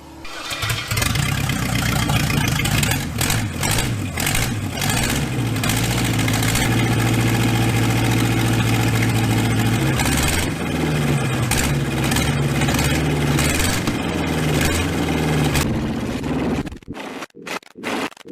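V8 engine swapped into a Mazda RX-7 runs loud and close, with a deep steady idle and rumbling low tones for about sixteen seconds, then cuts off into near silence broken by a few sharp knocks.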